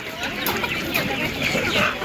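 Czech Dominant laying hens cluck and chatter at an animal market, a dense, busy layer of close clucking with voices talking underneath.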